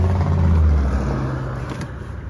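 A 2017 Ford F-250 XLT with a 6.2 L gas engine running right after starting, a loud steady low rumble close by that eases slightly in level, with no talking.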